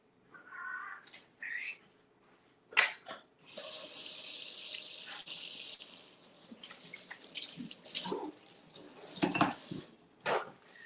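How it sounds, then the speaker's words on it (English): Running water flows from a kitchen tap in uneven bursts as hands are washed, with occasional clinks and clatter around the sink. "then I'm gonna wash my hands"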